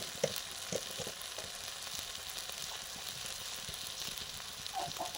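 Spice paste of turmeric, chili powder, salt and water frying and being stirred in a pan for a chicken curry, a constant close sizzle broken by soft scraping stirs and light clinks.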